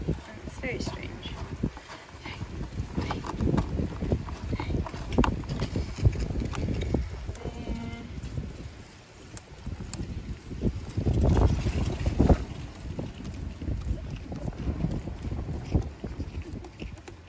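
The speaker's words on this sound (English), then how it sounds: "It's very windy right now." Strong wind gusts outdoors during work on a GMC Acadia throttle body, a loud, rough rumble buffeting the microphone and swelling and easing throughout, with a voice present at times.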